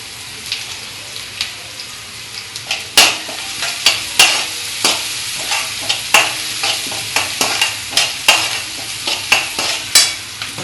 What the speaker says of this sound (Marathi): छानपैकी कांदा भाजलेला आहे.